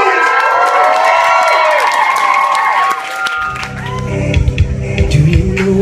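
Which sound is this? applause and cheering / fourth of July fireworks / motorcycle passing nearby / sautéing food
applause and cheering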